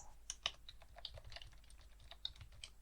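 Code is typed on a computer keyboard in quick, irregular bursts of soft clicking key taps, close and quiet with no talk.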